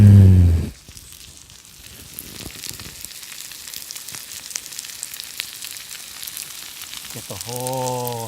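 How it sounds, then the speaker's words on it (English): Food sizzles and burns on the bottom of a pan over a campfire, a steady close crackle and hiss with scattered pops, framed by brief tonal sounds at the start and end. "That's the sound of it burning on the bottom."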